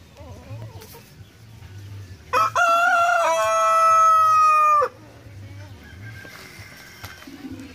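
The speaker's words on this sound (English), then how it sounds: "Bantam Chickens" A bantam rooster crows once, loud and close, a long drawn-out call with a bright harmonic ring, standing out from a quiet background hum.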